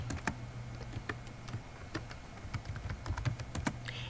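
Fingers typing words on a computer keyboard, irregular bursts of crisp key clicks with short pauses between, close and fairly quiet against a soft steady hum.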